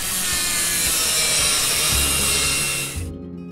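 An electric grinder smoothing the rough edges of copra and bamboo, a loud continuous abrasive whine and rasp that holds steady for about three seconds before cutting off abruptly.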